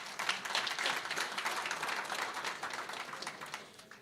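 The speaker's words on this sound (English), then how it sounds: "another round of applause for the HOD" Audience applause at an Eastern Cape school rationalisation programme meeting, honouring a department head: a steady wash of many hands clapping for about four seconds, easing off toward the end.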